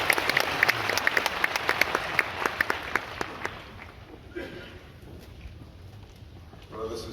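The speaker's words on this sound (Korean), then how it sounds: "우리 세우신 하나님께 영광의 박수 올리겠습니다." A church audience at a Korean church service-day gathering applauds to welcome a speaker, with brisk, dense clapping for about three seconds before it thins out and fades into a quieter room.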